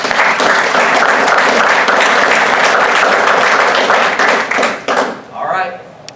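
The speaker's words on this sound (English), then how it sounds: "would you guys join me in a round of applause just for all your instructors" A graduating class and guests break into a loud, dense round of applause for their instructors at a military training graduation ceremony, sustained for several seconds before thinning out and fading at the end.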